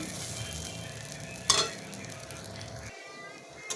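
Frying in a pan, a low steady sizzle with one sharp clink of a utensil, fading near the end, no talking.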